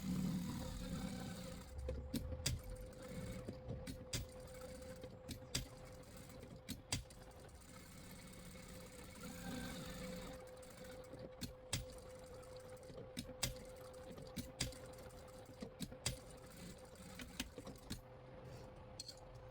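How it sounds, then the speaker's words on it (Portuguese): A sewing machine stitches the arm of a small stuffed toy sheep, backstitching at the start and end: a steady, quiet mechanical whir broken by rattling clicks and taps as the fabric is handled between seams. "Agora vamos costurar o bracinho maior."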